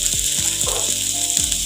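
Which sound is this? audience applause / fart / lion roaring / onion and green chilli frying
onion and green chilli frying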